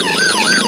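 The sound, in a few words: police car siren from toy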